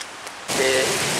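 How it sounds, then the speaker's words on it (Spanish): Rain mixed with hail pours onto an avenue in Mexico City in the late afternoon, a sudden dense, steady hiss that swells in halfway through and holds loud to the end. "No solo llueve, sino que graniza en estos momentos en Ciudad de México."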